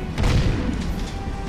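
Heavy booming gunfire from Jak 3, a PS3 HD action game, rolls out as one dense, loud, continuous blast of low rumble with crackling debris on top.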